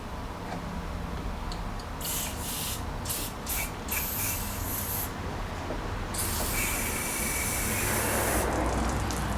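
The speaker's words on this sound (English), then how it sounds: "I sprayed it again." Bursts of aerosol spray hiss in short repeated blasts during lawn mower repair, then a longer continuous spray near the end, over a steady low background hum.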